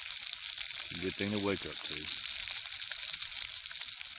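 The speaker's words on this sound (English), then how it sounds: "Gonna cook me some bacon and eggs." Bacon and eggs sizzle in a cheap camping skillet over a campfire in a state forest, a steady close frying hiss running throughout while someone speaks briefly over it.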